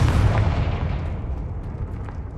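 A Confringo spell blast in the video game Hogwarts Legacy lands as a heavy, booming explosion that starts loud and tails off into a dull rumble over a couple of seconds, without speech.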